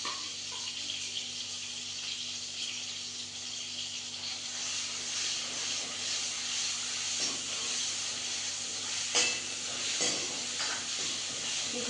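Tomato fries in a pan with coriander, turmeric and garlic on a gas stove at home, giving a steady, even sizzle and hiss that runs throughout with a few faint clinks.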